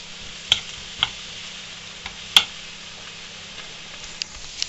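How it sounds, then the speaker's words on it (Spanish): Chopped tomato sizzling in a frying pan with onion, a steady soft fry hiss broken by a few sharp clicks of a utensil stirring against the pan. "Voy a echar tomatito"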